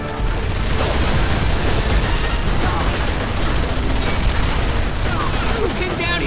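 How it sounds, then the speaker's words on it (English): Sustained machine gun fire and explosions from a Call of Duty: World at War battle on Betio, dense and continuous throughout with voices shouting amid the din. "Machine guns! Take cover!"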